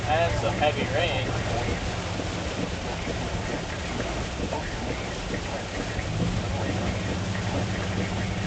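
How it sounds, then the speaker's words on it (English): Heavy rain pours steadily during a storm, a dense continuous wash with low rumbling that fits distant thunder, heard from inside a moving vehicle while people talk over it. "And some heavy rain."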